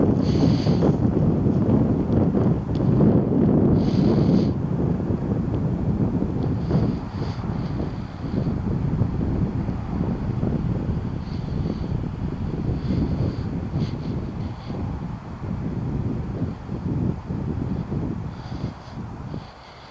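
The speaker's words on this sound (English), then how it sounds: "The wind really is getting up." Strong wind gusting across open moorland, a loud continuous roar buffeting the microphone with low rumbling surges that ease slightly toward the end, no speech.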